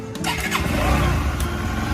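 A motorcycle engine on a cold day starts with a rough cranking churn that catches into a steady mid-pitched idle, heard close and fairly loud for about two seconds.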